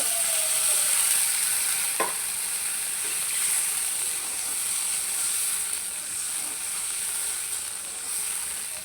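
Onions fry in a pan after a little water and spices go in, producing a steady, loud hiss and sizzle throughout with faint stirring scrapes.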